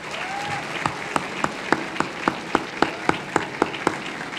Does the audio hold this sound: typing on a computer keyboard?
no